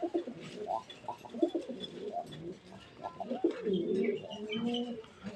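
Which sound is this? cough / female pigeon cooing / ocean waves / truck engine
female pigeon cooing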